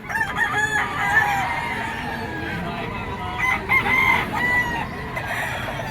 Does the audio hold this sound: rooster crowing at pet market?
yes